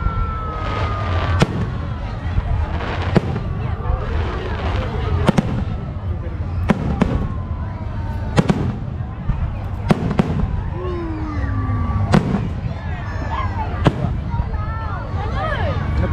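Christmas fireworks burst repeatedly through the night in sharp cracks and booms every second or two over a constant crackling roar. Some blasts sound near and others farther off, and people talk throughout.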